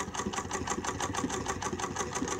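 A Singer 99 hand-crank sewing machine stitching at its longest stitch length, giving a close, rapid, even clatter of needle strokes in a steady mechanical rhythm.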